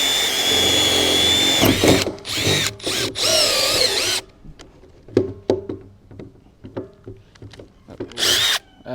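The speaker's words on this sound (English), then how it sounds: "We're going to drill a hole. This is a 1 3/4 inch Forstner bit." A power drill with a 1 3/4 inch Forstner bit bores into wood, loud whirring bursts that start and stop, then a stretch of scattered knocks and scraping before one last short burst of drilling.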